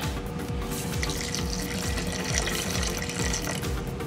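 Steady splashing of water, about a cup, pouring continuously into a bowl, loud and close, with no talking.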